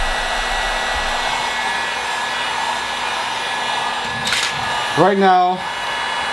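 A heat gun set to high fan speed and lowest temperature blows a steady, loud whooshing hum throughout, with a brief spoken phrase near the end.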